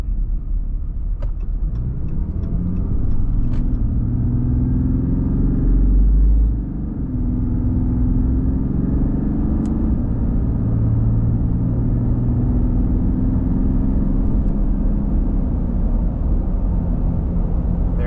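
A 2019 Ram 2500 Cummins diesel pickup with its intake silencer removed accelerates from 0 to 75, its deep engine rumble droning steadily and loudly throughout with a rising, strained tone and no voices.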